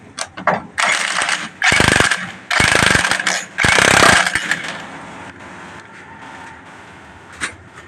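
A power tool tightens nuts on a Bajaj Discover motorcycle engine in three loud, rattling bursts of a few seconds each, separated by short pauses, then fades to quiet workshop noise and a faint clink.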